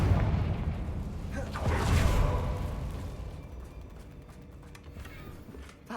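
A fire-blasting spell explodes in Hogwarts Legacy, a deep booming blast near 2 seconds that rumbles and slowly fades, over low continuous game ambience.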